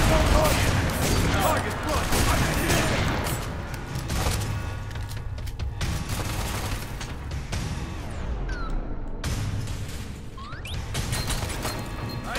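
Gunfire in the shooter game F.E.A.R. 3 crackles in dense bursts throughout, mixed with crashes and game effects, loud and constant with a player talking over it.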